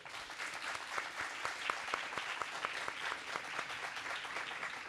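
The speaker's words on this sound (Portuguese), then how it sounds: "eu peço palmas para ele, por favor" Audience applause for author Oscar Nakasato at a reading club event in São Paulo, a steady, dense clapping from a nearby crowd sustained throughout with no talk over it.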